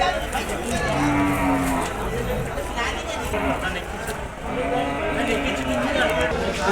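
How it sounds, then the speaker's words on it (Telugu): Buffalo lowing at a livestock market, several long low moos over a busy crowd murmur, with people talking throughout. "ఈ వారం మార్కెట్కి వచ్చిన మొత్తం గేదెలను చూపిస్తాను చూడండి"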